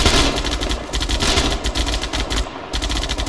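Dense, loud automatic gunfire from the military shooter ArmA, rapid bursts rattling almost continuously with a short break near the end, heard without talk.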